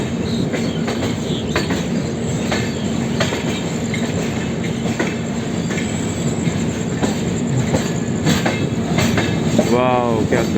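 Rajdhani Special train between New Delhi and Bangalore running steadily, a loud continuous rumble with rhythmic wheel clacks over rail joints and a rising metallic wheel squeal near the end.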